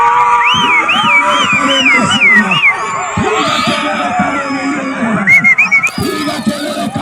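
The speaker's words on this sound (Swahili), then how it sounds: "Piga kelele kama hiyo umeielewa." A church congregation shouts and cheers in a loud, continuous mass of many voices, with high whoops and cries rising above the crowd noise.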